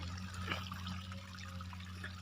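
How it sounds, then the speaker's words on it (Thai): Water flows steadily onto a sandy bank on a farm, with a soft, continuous rush and trickle, unbroken throughout, with a low hum underneath. "สายน้ำลังไหล"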